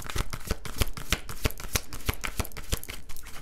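Tarot cards shuffled in quick, crisp riffling flicks, a dense run of sharp papery snaps close by, steady throughout with no talking.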